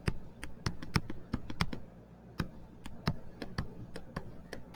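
Rapid irregular key taps on a keyboard entering an equation for a linear programming problem, crisp clicks in uneven bursts with a short pause in the middle, close and clear.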